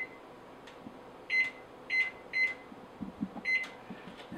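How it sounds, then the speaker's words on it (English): An electronic oven timer being set for baking a dog-food meatloaf, giving four short, clean beeps at uneven intervals, each a single tone, with faint kitchen noise and soft handling sounds between them. "So I set my timer for 90 minutes."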